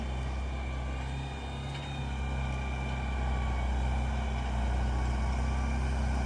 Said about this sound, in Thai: นี่ขนาดรถไถใหญ่นะคะ